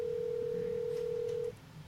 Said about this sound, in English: Hold on. I'm going to call my dad.